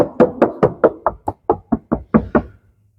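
About a dozen quick knocks rap on an Opel Mokka's rear fender panel in an even rhythm, hollow and close, with no talking.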